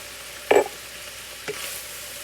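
Mushrooms hit a hot pan for Philly cheesesteaks with a sharp sizzling burst, followed by a second softer scrape and stir over a faint continuous frying hiss, close and unaccompanied by speech.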